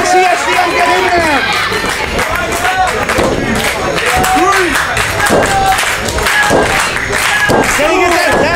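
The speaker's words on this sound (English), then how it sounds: "This crowd getting fired up." A wrestling arena crowd cheers and roars loudly and steadily throughout a tag-team match, with scattered clapping and shouts, under constant excited commentary.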